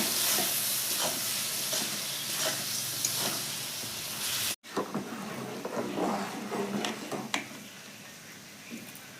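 Ground coriander, cumin, chili powder, turmeric and garam masala sizzle in a hot pan for chicken biryani. The frying is a steady, fairly close hiss with stirring scrapes, broken by a brief cut midway before the sizzle resumes.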